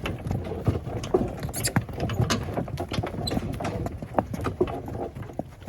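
Steady clip-clop of Novoalexandrovsk draft horses in harness on a hard surface, a brisk uneven rhythm with light rattling and creaking mixed in, fairly close.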